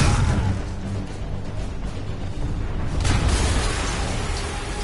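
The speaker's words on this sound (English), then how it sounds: "an explosion just..." Explosion in Marvel's Spider-Man video game, a loud, broad rumbling blast that sustains with crashing debris and a second surge partway through, no talking.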